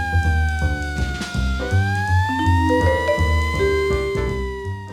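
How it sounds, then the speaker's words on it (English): A police siren wails over a low rumbling drone, its pitch gliding slowly upward and holding steady, loud and continuous throughout. "as the police siren stops"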